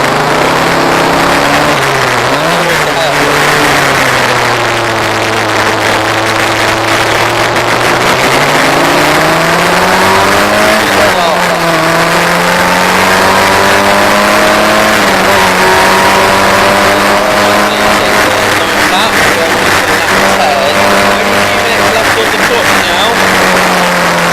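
Historic Formula Ford single-seater race cars at Croft circuit, engines loud and close, rising and falling in pitch through gear changes and corners, with a commentator talking over them throughout.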